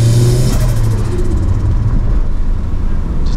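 A 1.5-litre single overhead cam turbo Mitsubishi Mirage accelerates hard, its engine a loud, close rumble with a droning tone that holds steady over a few seconds.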